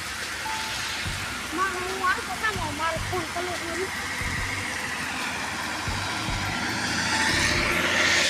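Steady heavy rain roars throughout, with birds chirping briefly and a few low thumps beneath the constant downpour.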